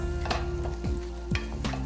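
Olive oil sizzles in a hot pan while pasta is cooked with shiitake mushrooms, a steady close hiss with a few brief scraping and clinking utensil sounds and no talking.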